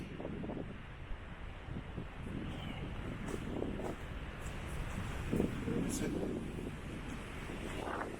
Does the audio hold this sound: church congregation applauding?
no